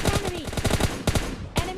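Gunfire in a battle royale video game: a close, loud volley of rapid shots in quick succession, then a pause, a couple more single bursts, with no speech.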